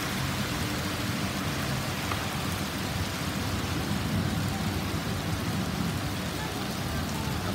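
Steady, dense rain pours over a flooding street in the Al Rigga area of Dubai, a continuous wash of hiss and patter with no distinct thunderclap standing out.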